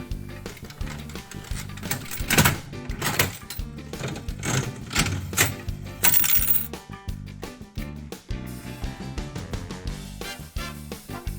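An old mechanical slot machine running, with fast whirring reels and a burst of rattling mechanical clicks that slows into separate clacks, followed by coins dropping for a small payout, all close and clear.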